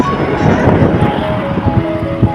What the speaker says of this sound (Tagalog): Mahangin, malakas ang hangin.